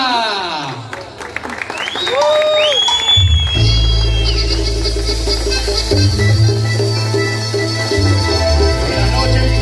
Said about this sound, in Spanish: El aplauso de todos ustedes